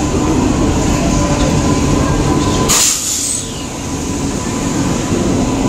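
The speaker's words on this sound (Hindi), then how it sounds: "केउंझर को ट्रेन आसला।" A train pulls into Keonjhar railway station in India amid a crowded platform: a loud, steady rumble of wagons and wheels with a brief sharp hiss or screech midway, then a slightly quieter rolling continues.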